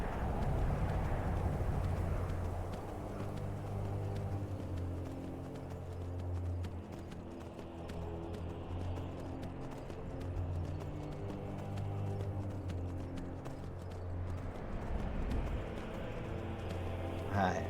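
Horse hooves clip-clopping steadily while riding in Skyrim, a continuous rhythmic trot close up at moderate level over a low musical drone, with no talk.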